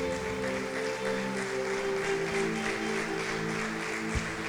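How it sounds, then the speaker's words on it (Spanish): A church congregation applauds at a worship service, with steady clapping that fills the space and a low hum and music tones underneath. "Dale un fuerte aplauso al Señor."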